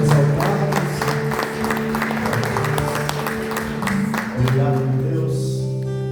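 A church congregation applauds in praise of God during a Sunday morning worship service, scattered clapping mixed with sustained music and voices, fairly loud and continuous throughout.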